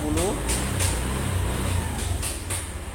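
A car engine at about 73 °C idles with a steady low rumble and light throttle blips, with faint periodic hissy bursts over the hum.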